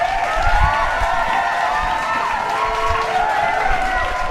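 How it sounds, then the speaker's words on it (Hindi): A small group claps and cheers to celebrate reaching 1000 kilometres on a Himalayan 450 motorcycle trip, a steady, busy wash of applause with steady wind or road noise beneath it. "तालियां बजा दो सारे"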